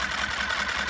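Lehr motor running in gear after being tightened up, a steady mid-pitched small-engine drone close to the microphone with no pauses or voices.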